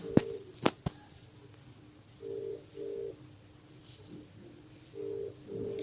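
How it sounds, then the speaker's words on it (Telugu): A phone rings in short repeated double-burst tones, steady and clear, with a few sharp taps at the start. "ఇక్కడ మీకు రింగ్ అవుతుంది చూడండి"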